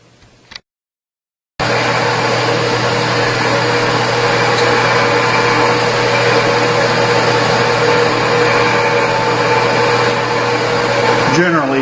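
A machine drills a hole in metal for a spool valve engine part. After a brief click and a moment of silence, a loud, steady motor whine starts and runs continuously close by for about ten seconds.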